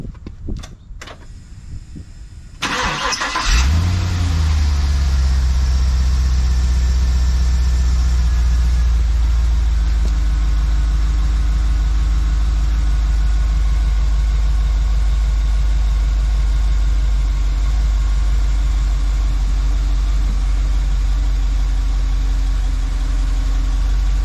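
Isuzu NPR truck engine cranking and catching after a few seconds of quiet, then settling into a loud, steady low idle that runs evenly and close by with no talk.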